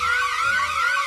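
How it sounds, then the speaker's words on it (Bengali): A car horn sounds on a road, a sustained, fairly loud tone that holds steady through the whole moment without pause, with no one talking. "গাড়ি একটা হর্ন মারতেছে"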